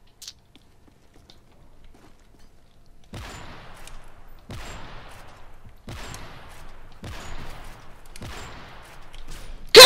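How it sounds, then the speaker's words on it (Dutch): Four or five evenly spaced gunshots in the video game Modern Warfare 3, each a sharp loud crack with a short decaying tail, preceded by near silence. "Ik schiet 3 keer door je heen, echt waar."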